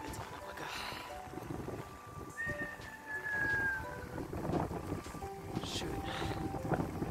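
Wind gusting outdoors on a bridge by a church and mill in Halberstadt, a steady rushing buffet on the microphone under a brief spoken word and other sounds.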